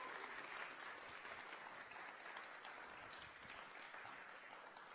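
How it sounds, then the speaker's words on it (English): Sustained audience applause at a live-streamed show, a steady wash of clapping heard from a distance at moderate volume. "One more round of applause for the fabulous Fionnuala."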